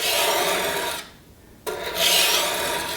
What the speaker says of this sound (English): start with the most coarse stone you have, and then from heel to tip, and we're grinding off